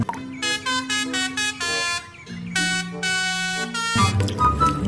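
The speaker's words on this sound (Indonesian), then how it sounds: "ada bus telolet" A toy bus sounds its telolet horn, a bright multi-tone musical honk played in several short melodic bursts with brief pauses, loud and close, ending in a rougher noisy blast.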